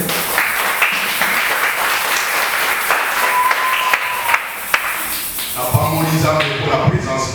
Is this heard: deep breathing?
no